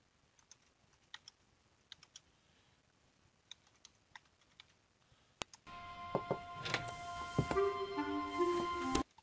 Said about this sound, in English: you can either just start typing in your